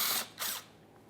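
Power tool driving out 8mm mounting bolts on the front lower engine splash shield of a 2014-2018 Mazda 3, with two short, close whirring bursts followed by quieter mechanical ticking.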